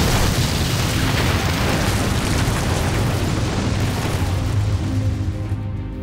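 Heavy, continuous booming and rumbling of infantry gun shell explosions in battle, loud and dense, with a low roar that barely lets up.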